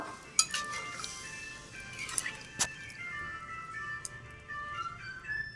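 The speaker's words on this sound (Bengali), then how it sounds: "এবার হচ্ছে একটু নাড়িয়ে নেবো" A spoon clinks and scrapes inside a pot of thin chicken curry with added water, giving a few sharp metallic taps and soft stirring sounds, fairly quiet, with no talking.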